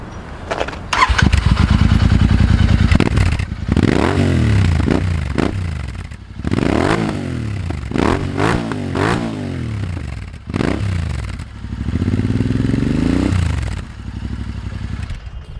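A Royal Enfield Interceptor 650 with a Powerage exhaust fitted with dB killers starts up close by, then idles with a deep burbling thump and is blipped in several sharp revs that rise and fall, separated by brief idle pauses.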